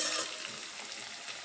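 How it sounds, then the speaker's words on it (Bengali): Ginger, garlic and green chilli masala sizzles in a wok over a medium flame as it is stirred, giving a soft, steady hiss with a slightly louder start, close up and with no talking. "আবারও একটু নেড়ে চেড়ে নেব যাতে কড়াইতে মশলাটা লেগে না যায়"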